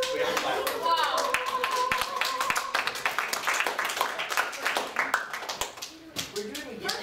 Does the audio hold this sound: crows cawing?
no